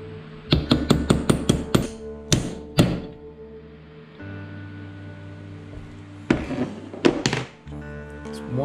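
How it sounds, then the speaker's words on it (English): Metal hammer blows driving a part flat through a socket during a Dana 18 transfer case rebuild: a fast burst of sharp ringing strikes, a pause, then two more spaced hits and a later cluster, loud and close. "allow me to hammer this in nice and flat"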